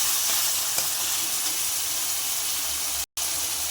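Tomato sautés in a pan of beans, a continuous, fairly loud hissing sizzle that cuts out for a moment near the end, with no voices.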